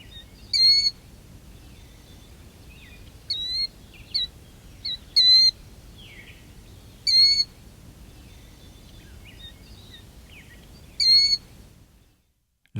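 A killdeer calls while feeding: five or six short, sharp, high notes spaced a few seconds apart, clear and close against near silence.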